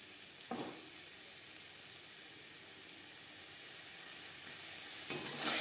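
Cauliflower fries in a hot pan for fulkopi bhaja, a steady hiss of sizzling oil running throughout, with brief scraping stirs near the start and again at the end.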